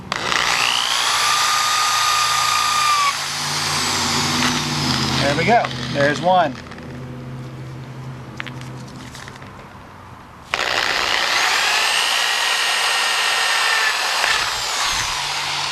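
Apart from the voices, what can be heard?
power drill with 5/32 bit drilling tops off rivets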